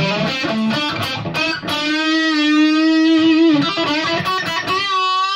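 Electric guitar played through a Kemper amplifier with the definition control at 5, giving sustained distorted notes and chords with bright harmonics, loud and close, alone without talk.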